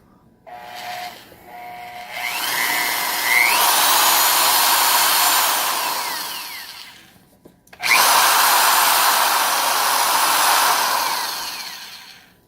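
An older USA-made Milwaukee 1107-1 heavy duty 1/2-inch goose neck right angle drill with metal motor housing spins up to a loud steady whine, briefly cuts out, then revs straight back up and winds down, with no talking.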